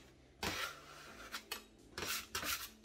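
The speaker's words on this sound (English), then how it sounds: "So you can use your scraper" A dough scraper works sourdough bread dough as it is shaped into an oval loaf. Several soft, close scraping and rubbing strokes come in irregular bursts over a quiet background.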